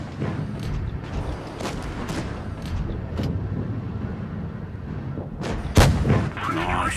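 Tank cannons firing in the mobile combat game World of Tanks Blitz, several loud booming shots spread across the stretch over a rumbling engine and battle background, one especially sharp blast near the end.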